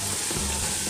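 Masala for kadhi pakora fries hard in a pan, a dense continuous sizzle with no breaks across the short moment.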